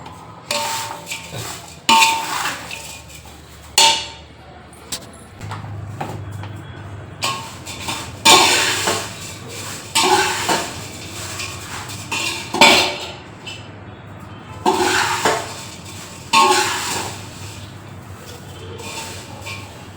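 Powdered sugar being mixed by hand in a bowl, with repeated scraping and clinking of a spoon against the bowl in irregular bursts, close and fairly loud, no speech.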